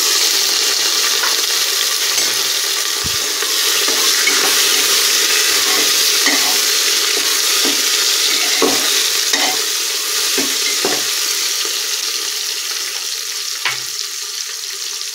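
Sliced onion, green chili and chopped tomato sautéing in a pan, a loud steady sizzle throughout with repeated spatula scrapes and taps against the metal, no voices.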